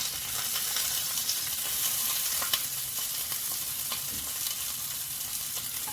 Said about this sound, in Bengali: এই যে ভাজা হচ্ছে